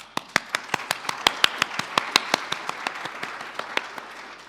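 A small number of hands clap in a sparse, fairly steady rhythm at a UN-related event on the Sustainable Development Goals, each sharp clap distinct and close.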